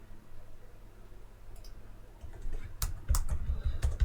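Someone types on a computer keyboard, starting with sparse faint clicks and building into a quicker, louder burst of keystrokes near the end, with no talking.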